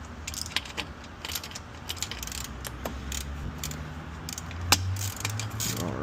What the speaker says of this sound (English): removing these 10mm bolts on the bottom